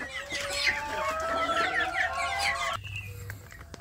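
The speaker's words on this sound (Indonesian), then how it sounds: "Alhamdulillah ayam kampung saya mulai bertelur ya sedulur." Free-range village hens and a rooster cluck steadily and close, with overlapping calls from a small mixed flock on a morning farmyard, then a quieter tail with a low hum.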